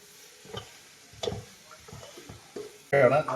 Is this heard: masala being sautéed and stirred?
yes